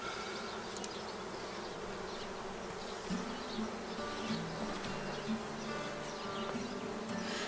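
Honey bees buzz in a steady, dense drone while two hives are merged into one, the swarm sound continuous and close throughout with small swells in loudness.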